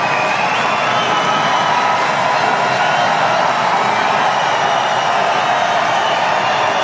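A large crowd at a Donald Trump rally applauds and cheers in a steady, loud wash of clapping and shouts that fills the whole stretch without a break.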